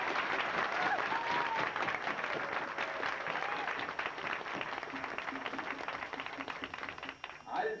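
Convention audience applauding for a Star Trek actor at a 1985 fan event in Dearborn, a dense, sustained wash of many hands clapping that stays loud throughout, with a brief dip near the end.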